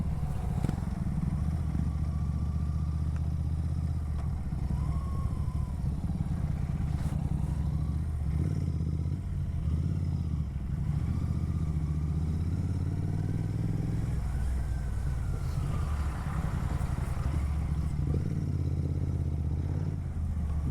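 A motorcycle cruises along the Agra–Lucknow Expressway, its engine holding a steady, loud drone with wind rush for about twenty seconds, with no talking.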